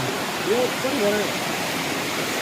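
Water rushing out at the source of a stream, a loud, steady broadband roar that fills the whole stretch, with a brief voice heard faintly beneath it.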